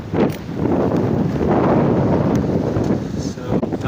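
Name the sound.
strong wind blowing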